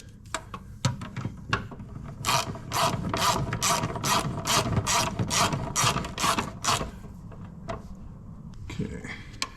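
Ratchet tightening power steering lines on a 2008 Ford Taurus, a run of about a dozen rapid even clicks in the middle, close and loud, with scattered knocks and handling noise before and after.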